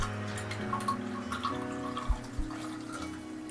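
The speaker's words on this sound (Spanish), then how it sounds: "Entonces vaciamos en este vaso" Water is poured into a glass in a chemistry demonstration, a quiet steady liquid trickle with a couple of soft splashes and knocks, heard alone.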